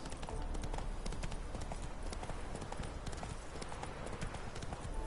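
Horse hooves clip-clop steadily and loudly in The Witcher 3 (Hearts of Stone), a continuous close rhythm of footfalls filling the scene with no talk over it.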